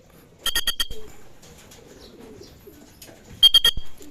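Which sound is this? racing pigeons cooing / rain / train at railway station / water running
racing pigeons cooing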